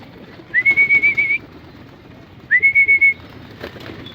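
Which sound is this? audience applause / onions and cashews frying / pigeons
pigeons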